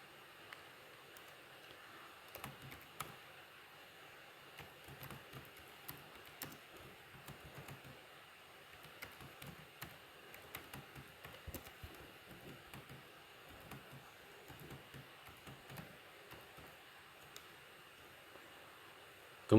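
A computer keyboard is typed on in scattered bursts of soft key clicks over about twenty seconds, quiet and close against a faint background hiss, with no talking.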